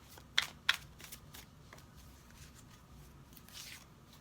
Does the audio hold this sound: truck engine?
no